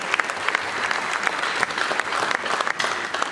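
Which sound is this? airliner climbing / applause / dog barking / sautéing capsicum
applause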